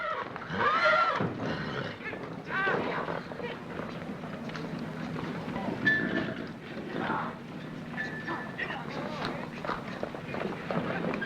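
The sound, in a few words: horse neighing and trotting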